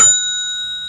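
A single desk bell is struck once, a bright, clear ding with a pure ringing tone that decays quickly, close and alone, followed at the end by the start of a voice.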